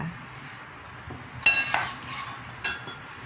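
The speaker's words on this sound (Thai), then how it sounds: "คนให้น้ำตาลละลาย แล้วก็ผงนวลละลาย" A spoon stirs sugar and seasoning powder into a fish sauce dressing for a spicy grilled mackerel herb salad, giving a few sharp clinks against the bowl over a quiet background.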